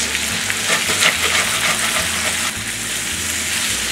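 Country-style potatoes with onions fry in a pan over medium heat, a loud, close, steady sizzle with a rougher scraping texture as they are stirred.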